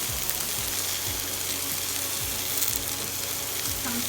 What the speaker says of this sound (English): I'm going to add the rest of the season to the pot. I'm going to also add my okra